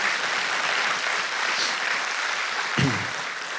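A church congregation applauds in a steady wash of clapping, dense and fairly even throughout, with a short low thump near the end.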